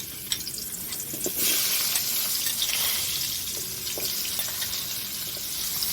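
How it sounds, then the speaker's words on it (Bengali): Potatoes frying in hot oil, a dense close sizzle that surges louder as they go in and then holds as a steady hiss with small crackles, with no talking. "ভাজার জন্য তেলে দিচ্ছি।"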